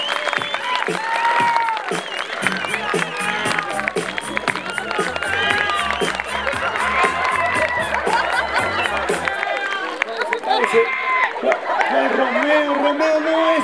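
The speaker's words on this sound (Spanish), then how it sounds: "¡Fuerte el aplauso, señores!" Crowd cheering and applause as a performer is introduced on stage: loud, continuous clapping and shouts mixed with voices and music-like tones, busy and close throughout.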